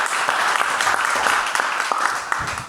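An audience at a public debate event claps in a steady, moderately loud round of applause that holds evenly throughout.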